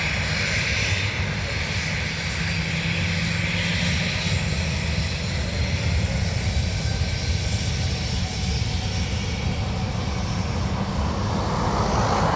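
A Ryanair UK jet runs its engines at Dublin Airport, giving a loud, continuous roar with a deep rumble that stays steady throughout.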